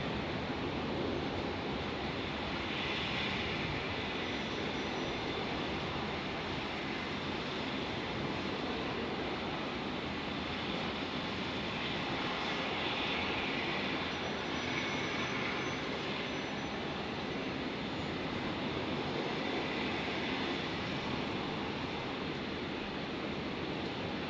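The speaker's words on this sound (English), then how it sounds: "Jetstar 931 touching down here" A Jetstar jet airliner touches down at Brisbane airport, giving a steady, loud broadband roar that swells slightly and holds for the whole stretch with no voices.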